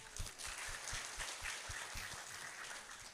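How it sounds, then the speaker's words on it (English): Seminar audience applauds at an international seminar opening ceremony: a soft, continuous wash of clapping heard from a distance, fairly quiet and even throughout. "Please give applause to all of us."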